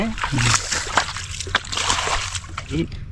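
Water splashes and sloshes in repeated scoops and throws as a small pond is bailed out to catch fish, close by, while a person talks over the splashing.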